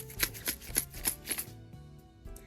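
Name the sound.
broken colored pencil leads rattling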